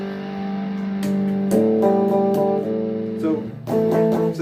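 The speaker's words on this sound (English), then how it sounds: "So now you're hearing the guitar and the amp coming from GarageBand." Distorted electric guitar played through GarageBand amp simulation via a Yamaha SC-02 Session Cake portable mixer, picked notes and chords ringing with crunchy sustain, close and clear with no talk.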